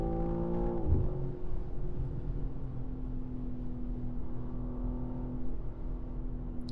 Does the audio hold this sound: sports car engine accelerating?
yes